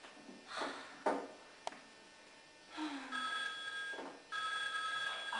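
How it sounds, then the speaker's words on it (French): A telephone rings in a Pink Panther cartoon, its bell trilling in two bursts, joined by quick cartoon sound effects and a short descending squeak. "Un téléphone stupide."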